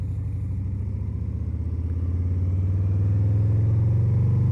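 Motorcycle engine revving steadily as the clutch is eased out for a beginner's pull-away, a loud, close, continuous throbbing idle that grows slightly louder and smoother as the bike starts to move.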